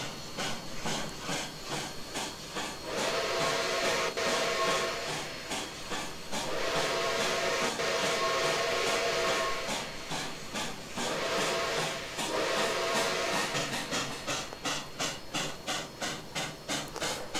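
Rhythmic steam locomotive chuffing in the train simulator Trainz 2019, steady exhaust beats with hissing between, speeding up toward the end; no talking.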